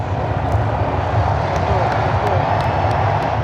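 A dense stadium crowd at a National Football League game roars and chants the Skull chant in unison, with scattered clapping and a steady low rumble filling the space.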